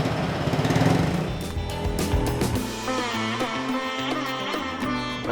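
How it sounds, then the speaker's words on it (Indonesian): A Honda Supra X 125 motorcycle engine, just restored, idles close by with a steady, slightly uneven puttering, its revs briefly rising and settling, while faint tonal sounds drift in the background. "Ya, sudah selesai semua dan kita coba hidupin motornya."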